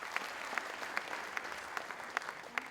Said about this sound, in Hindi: एक जोरदार तालियां हो जाए इतने लोगों के लिए।